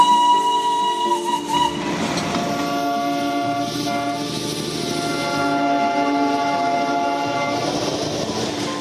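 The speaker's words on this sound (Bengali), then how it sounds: "এরই মধ্যে পাহাড়ের পাকদণ্ডি বেয়ে কুঝিকঝিক।" The Darjeeling toy train climbs the mountain on its narrow-gauge line, giving a loud sustained horn-like tone over steady rumbling and rolling rail noise, close by and with no voices.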